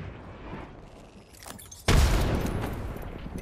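A frag grenade goes off in a multiplayer shooter game: a sudden loud, broad boom that swells out of quieter background rumble and lingers as a heavy, roaring blast for over a second.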